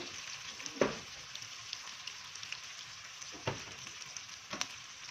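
Tomatoes sizzle in a frying pan while sitaw with tofu is prepared, a steady close frying hiss broken by a few sharp pops and spatters, with no talking.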